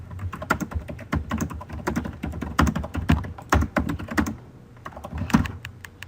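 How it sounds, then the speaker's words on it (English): Fast, furious typing on a computer keyboard, close and loud, with dense clacking keystrokes in irregular bursts and a brief pause near the end. "Furious typing."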